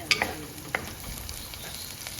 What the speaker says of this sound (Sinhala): ඊට පස්සේ ඒකට රම්පා කරපිංචා එකතු කරගෙන ආයමත් ඔක්කොම ටික හොඳින් තෙලේ කලවම් කරගන්න.